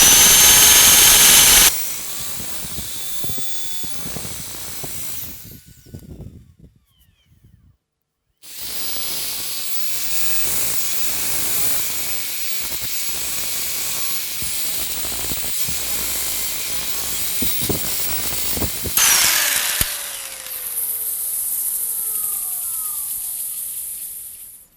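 A wood lathe spins a snowman-shaped workpiece while 80 grit sandpaper is held against it, giving a loud steady whirring hiss that stops briefly partway through, then resumes and fades at the end.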